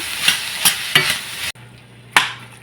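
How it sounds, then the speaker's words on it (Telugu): Avocado deep frying with onions in a pan with salt and turmeric, with bright sizzling and spoon strokes stirring the pan. The noise drops briefly before a last loud stir. There is no talking. "అవకాడోని ఇలా డీప్గా ఫ్రై చేయాలి"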